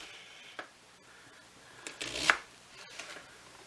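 A knife chopping onion into small pieces on a board for lasagne, a few soft scattered cuts with one sharper louder chop in the middle, close and quiet with no talking.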